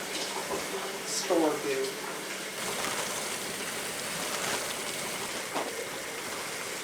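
Pickling cucumbers are rinsed under a steady stream of tap water, a continuous close rush with brief splashes, while someone talks over it.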